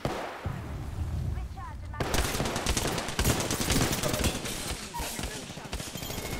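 Gunfire in an Apex Legends-style battle royale shooter, with loud rapid automatic bursts and sustained firing that starts abruptly and continues under game noise.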